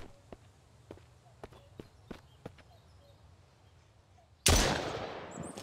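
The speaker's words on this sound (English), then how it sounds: "Shots." Footsteps tap steadily through the quiet in the video game Mist Survival, then a single loud gunshot cracks up close and rings out with a long decaying tail.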